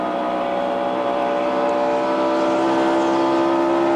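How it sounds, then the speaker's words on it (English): A 1990s NASCAR Winston Cup stock car engine droning at Charlotte Motor Speedway, a loud, steady, sustained roar that holds nearly constant through the clip with no voices over it. "You hear the motor sound at 33 with Greg Sachs back out on the track again."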